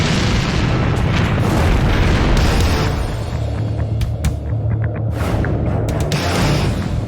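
Loud, continuous booming explosions roll and rumble over several seconds, with rapid overlapping blasts and sharp cracks standing out near the end. No voices are heard.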